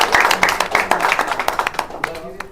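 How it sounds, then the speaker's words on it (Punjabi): Guests at a salon opening in Mohali clap briefly and loosely, with distinct hand claps close by, while someone talks over them. "ਇੱਕ ਵਾਰ ਜ਼ੋਰਦਾਰ ਤਾੜੀਆਂ ਹੋ ਜਾਣ ਸਾਰਿਆਂ ਨੂੰ"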